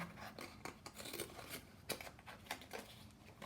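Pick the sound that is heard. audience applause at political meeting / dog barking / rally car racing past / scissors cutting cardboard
scissors cutting cardboard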